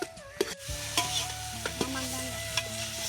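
Onions frying in a pan for a village-style biryani, a steady soft sizzle broken by sharp scraping clicks of a stirring spoon, close and fairly quiet with no talking.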